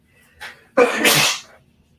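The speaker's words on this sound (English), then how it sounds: "I'm about to sneeze in case anyone's curious" A single close, loud sneeze with a short sharp intake of breath before it, then quiet.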